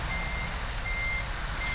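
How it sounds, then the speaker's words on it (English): A truck's reversing alarm beeps in a steady repeating pattern over a low engine rumble as the truck rolls backward in Euro Truck Simulator 2. "Let my truck roll back a little bit."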